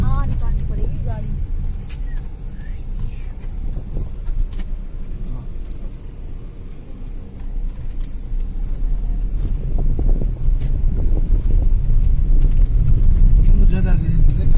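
A car drives along a rough road under construction where a four-lane widening is underway, a steady engine rumble with rattling and jangling throughout while people talk inside.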